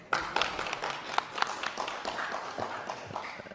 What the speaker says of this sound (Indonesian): Boleh pada tepuk tangan yang ragu-ragu, Pak.